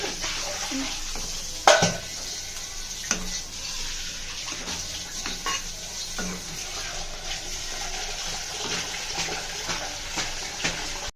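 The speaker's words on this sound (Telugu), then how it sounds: "ఆ ప్యూరీలో ఫ్రాన్స్ వేసుకొని ఇలా కలుపుతూ ఉండాలి" Prawns being stirred into curry puree in a pan, with close wet scraping and squelching, a sharp utensil clank early on and lighter knocks throughout.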